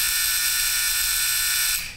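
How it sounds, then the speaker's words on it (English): Electrical buzzer from a 1950s psychiatric hospital device, its arcing contact vibrating in a loud, continuous harsh buzz that holds steady for nearly two seconds before cutting off abruptly. "Look at that buzzer go there"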